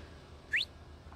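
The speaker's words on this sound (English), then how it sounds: "That whistle was kind of weak." A single short rising whistle chirps once in the Star Wars: KOTOR game, brief and fairly faint over a low background hum.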